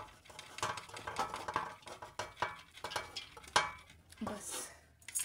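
Rice is added to a cooking pot for a biryani, giving a series of close clinks, scrapes and rustling patters of grains and utensils against metal, irregular and fairly quiet.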